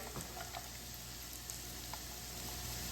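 Sliced garlic sautéing in a pan with onions for spicy shrimp gives a steady, even sizzle and hiss with a few faint clicks of stirring, close and moderately quiet throughout.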